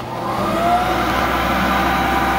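A rebuilt Lagun vertical milling machine with new variable-speed belt and bearings runs its spindle at 3,900 RPM, a loud, steady, smooth mechanical hum with a faint rising whine, alone and unbroken.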